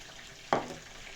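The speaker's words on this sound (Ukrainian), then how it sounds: "Я ножки обжарую на маслі без е, ніяких спецій, тільки сіль." Chicken drumsticks dropped into hot salted oil set off a sudden sizzling burst that crackles for about half a second and then settles into a softer, steady frying hiss.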